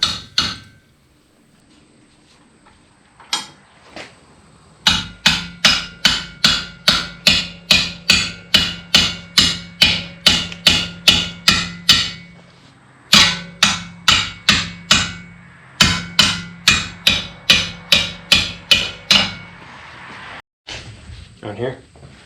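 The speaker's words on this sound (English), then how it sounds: "His hammering technique is already improving." Repeated sharp metallic hammer blows on a Subaru front wheel bearing in steady rapid bursts, close and loud, with brief pauses between runs of strikes.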